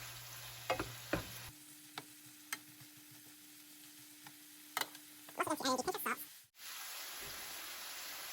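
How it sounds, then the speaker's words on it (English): Shrimp with paprika frying in a pan and stirred around, a soft steady sizzle with occasional ticks, then a brief burst of close scraping and clatter as the pieces are moved. "I'm going to mix it around because right now that paprika is all over that one shrimp."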